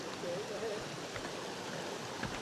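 River water flowing steadily outdoors on Kauai, a continuous close rushing wash with small splashy bursts, filling the whole stretch without talk.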